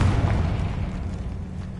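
A Confringo blasting spell in the video game Hogwarts Legacy sets off a deep, rumbling boom that fills the short moment, heavy in low end and fading slightly, with no talking.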